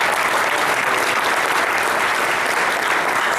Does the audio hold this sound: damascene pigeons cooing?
no